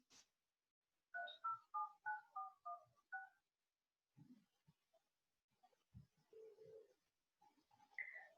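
A phone dials out to place a call, giving a quick run of about seven evenly spaced DTMF keypad tones followed by softer electronic beeps and tones, clear and close, with no speech.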